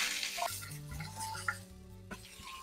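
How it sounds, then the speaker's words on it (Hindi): Chopped eggplant and green chilies, added to hot oil with garlic in a pan, sizzle steadily up close, with light stirring clatter over the continuous frying hiss. "तो मैं अभी इसमें डाल दूंगी बैंगन जो मैंने काट के रखा है,"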